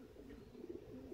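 Pigeons kept in a loft coo softly and faintly in low, throaty, rolling notes, with no voices over them.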